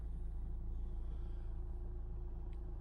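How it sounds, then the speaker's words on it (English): A car rolls slowly around a private car park, its engine giving a steady low rumble close by, with no talking. "Let's have a little spin around the car park a second and see if it makes any difference."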